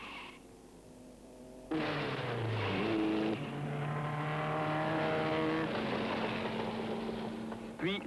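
Vintage 1920s Fiat and Sunbeam racing cars speed around a circuit, engines roaring loudly and continuously after a quieter opening, with pitch sweeps as cars pass and accelerate, under music-like tones and possible narration.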